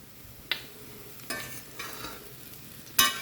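Chow chow (chayote) stir-fry being stirred in a pan over a low flame with a pinch of salt added, a soft sizzle underneath and a few distinct scraping strokes spaced apart, the last one the loudest.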